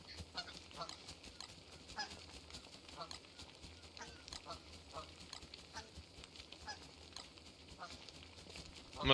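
Repeated goose honks from the video game Don't Starve Together, quiet and steady, continuing over low game ambience.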